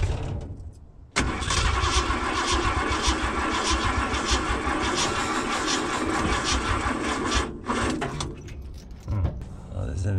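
A Ford 460 V8 with a Holley 4180 carburetor in an Econoline E-350 tow truck cranks and catches after about a second, then runs loud and rough at a fast idle with slight surging, with voices nearby.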